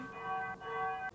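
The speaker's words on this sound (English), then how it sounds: "whereas this is like an old-fashioned style bell" An old-fashioned church bell ringing at Kylemore Abbey in Galway, two sustained metallic tolls with long ringing overtones, moderately loud and with no voices.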